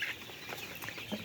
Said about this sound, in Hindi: बांग देना स्टार्ट करते हैं।